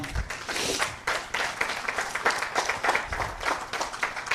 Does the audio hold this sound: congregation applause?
yes